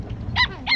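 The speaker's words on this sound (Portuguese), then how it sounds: "Olha os cachorrinhos aí, ó, veio recepcionar nós aqui no ponto de apoio." Puppies yip in two quick, high, close barks over a low background rumble at a rural fishing spot.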